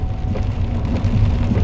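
Steady rain falls outdoors at a college football spring game, a dense, even hiss of drops on surfaces with low rumble, no voices.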